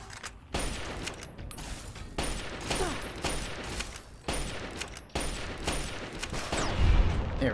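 Shotgun slugs fired at Robo Scorpions in the Fallout video game, a string of sharp shots at irregular intervals over a steady background of combat noise, with one heavier blast near the end.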